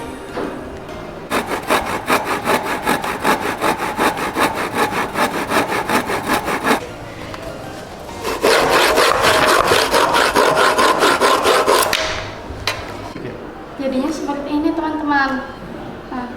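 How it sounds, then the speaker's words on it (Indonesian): A hand saw cuts the ends of a wooden rafter at about 40 degrees in fast, rhythmic back-and-forth strokes, loud and close, pausing briefly between bursts, with a voice speaking near the end. "kaso kita potong di kedua ujungnya, yaitu kira-kira 40 derajat."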